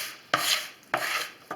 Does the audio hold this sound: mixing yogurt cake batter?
yes